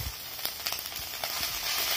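Whole spices crackle and sizzle in hot oil as tempering for a fish-head and bottle gourd curry, a soft continuous frying hiss with scattered pops and occasional stirring scrapes.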